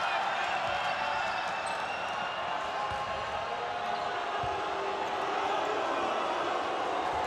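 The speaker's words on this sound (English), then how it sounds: "and the crowd's reacting" Crowd noise fills a basketball arena during the FIBA Asia Cup 2022 final between Lebanon and Australia, a steady, dense murmur of spectators reacting with no sharp peaks, heard alone throughout.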